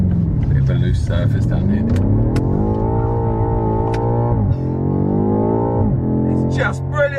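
Engine noise from a BMW M5 F90 on the move. The tone rises steadily through the gears, drops at each shift and builds again, and someone talks over the engine throughout.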